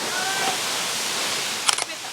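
A steady, rushing roar of Sabitham waterfall in Peddapalli district fills the whole stretch, broad and constant, with a few quick clicks near the end.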